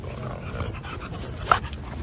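A dog pants on a city street, steady quick breaths close by under a wash of outdoor noise, with one brief sharper sound near the end.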